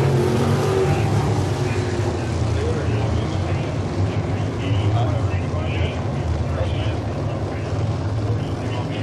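Crate sprint cars race around Ohsweken Speedway, their engines forming a loud, continuous roar, while an announcer talks over the track noise.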